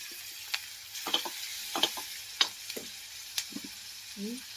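Boiled fish roe (gaboli) frying with garlic, turmeric and masala in a pan, a low steady sizzle with repeated light clicks and scrapes of stirring.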